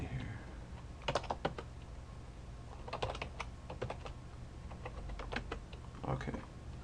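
Bursts of computer keyboard typing while entering router configuration commands, clusters of close, crisp key clicks separated by short pauses over a low steady hum.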